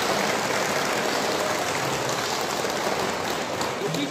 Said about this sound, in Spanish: Aquí recibimos con un caluroso aplauso.